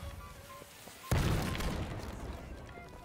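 A sudden heavy boom from a rocket blast in the Holdfast war game bursts in and then rumbles and crackles as it fades, loud and close, with faint voices in the background.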